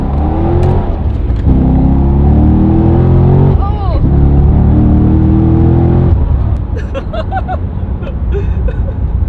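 A Corvette accelerating hard from inside the cabin, the engine droning loud and rising through several long climbing pulls split by quick gear shifts, then easing back to a lower rumble as people talk.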